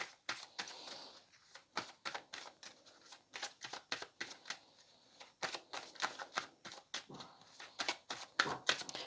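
Oracle cards being shuffled by hand, a quiet close series of crisp riffling and slapping bursts in an uneven rhythm, with no talking.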